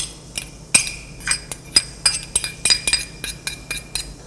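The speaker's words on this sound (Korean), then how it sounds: "다진 표고버섯을 여기다 넣어요" Minced shiitake mushroom tipped into a bowl of shiitake-pickle soy sauce, giving a string of light clinks and taps of a utensil against the bowl, close and fairly crisp, repeating irregularly with no talking.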